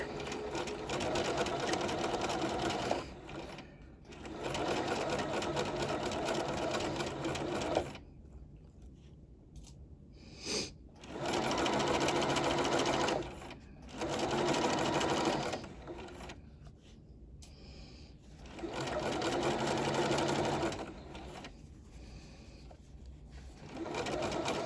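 A sewing machine stitches the seam of a lined garment, its steady motor whir running in several long bursts with short pauses between them, and a quiet backstitch pass among them. No talking is heard.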